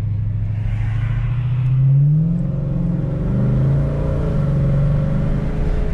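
A Dodge Challenger fitted with MFER-1 mufflers gives a deep, steady low exhaust rumble with a brief swell in revs, heard from inside the car with no voices.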